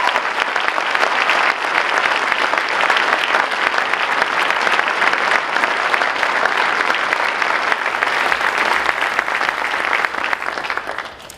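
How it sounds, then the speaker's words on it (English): A convocation audience gives a sustained round of applause for scholarship donors, dense even clapping from a large crowd that holds steady throughout before tapering at the very end. "if we could have one more round of applause for all of our scholarship donors"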